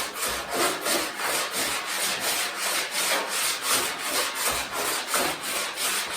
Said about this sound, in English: if I keep filing, I could file it till there's nothing left